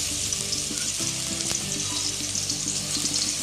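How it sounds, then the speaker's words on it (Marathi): Chopped onion frying in hot oil in a pan for a mixed fish curry, a steady, close hissing sizzle that runs continuously under faint low clinks, with no speech. "तो गोल्डन ब्राउनिश कलरवर आपल्याला हा कांदा लाल करून फ्राय करून घ्यायचा आहे"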